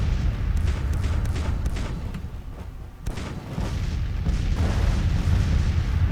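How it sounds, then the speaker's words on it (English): Artillery fire in Grand Tactician: The Civil War, heard as a steady, loud wash of distant booms and rumbling blasts that continues through the whole stretch, with a brief lull near the middle. "Got the artillery resighted"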